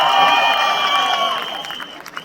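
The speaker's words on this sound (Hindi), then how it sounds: "तालियां बजाइए दोस्तों." Live crowd at a Delhi film promotion event clapping and cheering for a producer on stage, a loud dense roar with some shouts and a bright sustained tone that fades toward the end.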